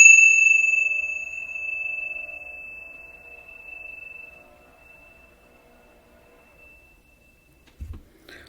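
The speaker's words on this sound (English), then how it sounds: "want to like ring the bell." A single bell strike rings out clearly, its bright tone slowly decaying over several seconds until nearly silent, followed by a faint brief thump at the end.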